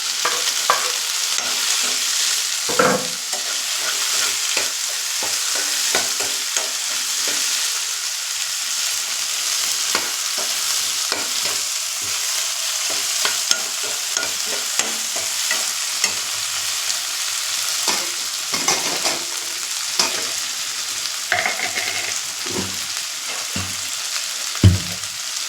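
Tomatoes for chicken varuval fry in a pan with a steady bright sizzle, while a spoon stirs in frequent close scrapes and taps.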